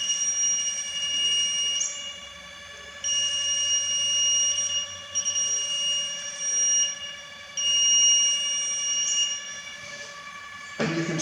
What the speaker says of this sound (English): it can very readily see the voltage present there and offer the appropriate visible and audible alarm